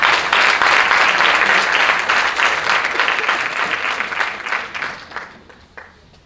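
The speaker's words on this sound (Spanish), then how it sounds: "un aplauso para Alicia" An audience at a Constitution Day event claps for the town crier, a dense burst of applause that starts full and gradually thins and fades over about six seconds.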